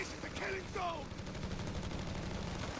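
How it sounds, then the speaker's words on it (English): Faint, distant machine gun fire from a Company of Heroes 3 battle, heard as a steady low crackle of rapid shots beneath a commentator's voice. "Have a machine gun helping out from this house a million miles away, suppressing those assault grenadiers there."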